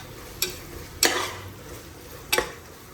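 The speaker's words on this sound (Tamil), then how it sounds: "நல்லா இந்த புதினா மல்லியோட ஃப்ளேவர் வர வரைக்கும் நல்லா கிண்டிகிட்டே இருக்கணும்" Mint and coriander leaves stirred in a pot for chicken biryani, three sharp spoon scrapes against the pan over a quiet, low sizzle, close and without voices.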